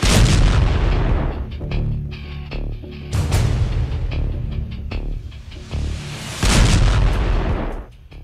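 A B-61 bomb being launched and exploding, heard as a continuous loud rumbling roar with repeated heavy booming bursts that swell and fade over several seconds.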